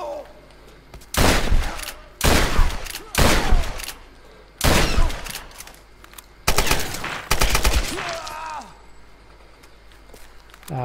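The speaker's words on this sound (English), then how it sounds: "Just walk there and shoot them all." Bursts of gunfire from shooting enemies in the Tomb Raider video game, several loud volleys of rapid shots with short pauses between them, with footsteps in the gaps.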